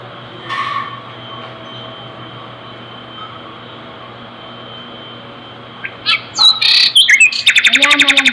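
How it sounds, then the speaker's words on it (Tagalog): Birds chirp and tweet close by with rapid repeated calls near the end, over a steady low hum, with a faint brief call earlier on; no one talks. "may ibon ata din"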